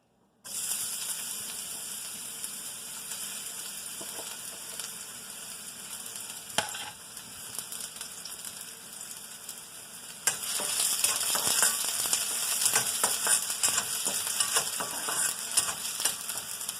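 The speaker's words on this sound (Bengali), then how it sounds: "শুধু একটু হালকা ভাজা ভাজা করব" Vegetables lightly frying in a small amount of olive oil, a steady close sizzle that grows louder partway through, with occasional stirring clicks and no talk.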